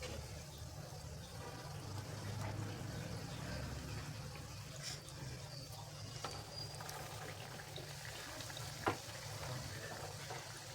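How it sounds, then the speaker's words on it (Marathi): Vada being fried in hot oil on a full flame, a continuous close sizzle with a faint bubbling texture and a single sharp knock near the end. "वडा टाकताना गॅस फुल ठेवायचा आहे"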